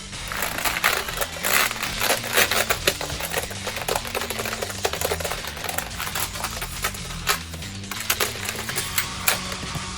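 Rapid keyboard typing in The Typing of the Dead on PC or Dreamcast, a dense, continuous clatter of keystrokes with uneven bursts, close and loud with no voices.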